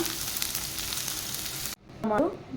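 Green chillies and onions sizzling in hot oil in a pan, a dense steady crackle that cuts off abruptly near the end, followed by a brief muffled voice-like sound.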